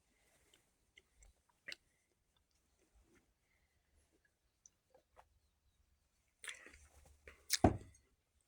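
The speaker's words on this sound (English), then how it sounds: "Who drinks and eats gum at the same time?" Someone chews gum while drinking, producing faint, sporadic wet mouth clicks and smacks up close, then a few louder bursts of chewing near the end.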